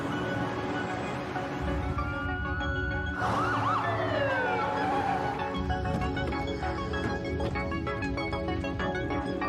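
An ambulance siren from the video game Ambulance Simulator wails with rising and falling sweeps, blended into a dense layer of game music and sound effects. It stays steady and fairly loud throughout, with no talking.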